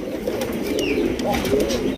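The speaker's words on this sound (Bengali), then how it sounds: "একদম বিগ সাইজের বোম্বাই কবুতর পাইতেছেন" Big-sized Bombay pigeons cooing close by at a pigeon sale, low throaty rolling coos repeating through the stretch with faint chirps and background chatter.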